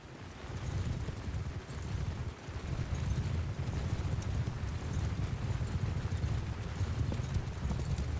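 Horses gallop into battle in the video game Mount & Blade II Bannerlord, a dense, continuous rumble of many hooves with scattered louder thuds, steady and fairly loud throughout.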